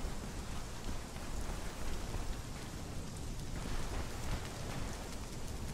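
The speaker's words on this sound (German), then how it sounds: "Bei mir kommt Regen runter in der Wüste, cool." Rain pouring down in a desert in the video game Conan Exiles, a steady hiss of falling drops filling the whole stretch with no voices over it.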